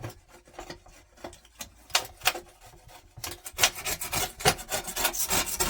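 A straight blade scrapes dried acrylic paint marker off a glass craft mat in quick, repeated rasping strokes, close and clear, starting sparse and becoming denser and louder in the second half.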